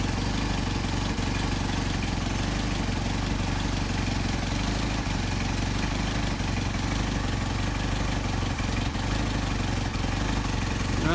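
A Mercedes 190SL engine with Solex carburetors idles steadily during an idle mixture adjustment, a close, even, loud rumble running unbroken throughout with no speech.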